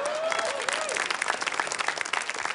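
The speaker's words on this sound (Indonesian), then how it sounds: "tepuk tangan untuk Bayu Deva" A studio audience at a televised stand-up comedy show claps for a comedian in steady, close applause that fills the whole stretch, with voices underneath.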